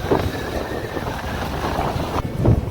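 Loud wind blows in a constant low rumble, buffeting close to the microphone without a break, on a forest trail up to Koraigad fort in rainy weather.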